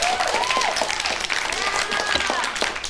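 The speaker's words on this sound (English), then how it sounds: "A big round of applause" Studio audience applauds a quiz contestant on a 1987 televised campus quiz show, a steady burst of clapping that holds for a few seconds.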